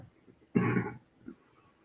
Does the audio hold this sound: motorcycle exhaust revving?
no